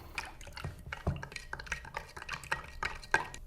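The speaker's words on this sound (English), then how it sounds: "we're just gonna combine those 2 things and give it a stir" Fresh lime juice and sugar stirred together for a cocktail, a faint run of small clinking taps and soft liquid swishes in an irregular rhythm, close and quiet, with no talking.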